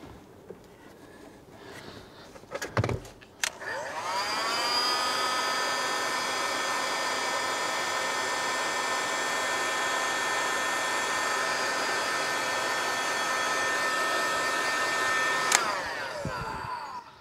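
A heat gun blows hot air over heat shrink tubing on wiring in a 2003 Holden VY Storm Ute, a loud, steady whirring blast that runs for about twelve seconds after a few handling knocks, then switches off.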